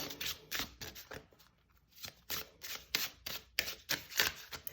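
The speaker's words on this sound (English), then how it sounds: "we are going to shuffle on camera and see how this goes" Oracle cards from a 33-card deck are riffled and bridged in quick crisp bursts close to the microphone, with short pauses between shuffles.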